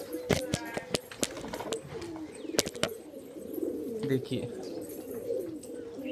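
Pigeons cooing in soft, low, repeated calls, mixed with sharp clicks and a brief spoken word.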